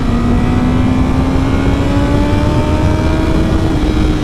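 A Honda CBR1000RR motorcycle engine revs loud and close, its pitch climbing steadily in a continuous high-RPM roar, with a split-second hesitation around 10,000 RPM.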